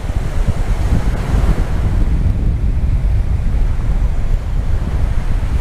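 Sea waves wash steadily onto narrow Na Jomtien beach in a continuous, loud surf roar, with wind rumbling across the microphone and no voices.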